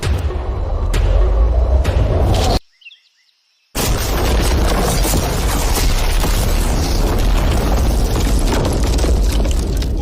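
A car is blown up by a blast, a loud, sustained roaring boom that cuts to near silence for about a second before a long dense rumble of debris and wind, with no talking.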